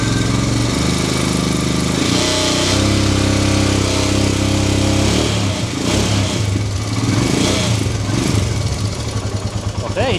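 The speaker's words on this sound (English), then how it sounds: "now let's rev it up a little bit and then see if it goes up." Royal Enfield Himalayan 411 motorcycle engine being revved after a stator replacement, loud and close, the thumping exhaust rising and falling steadily over the idle for about ten seconds.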